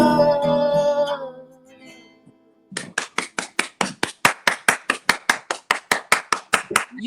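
After singing fades out and a brief pause, applause at a virtual convention arrives as one person's sharp, evenly spaced hand claps, loud and close, continuing steadily to the end.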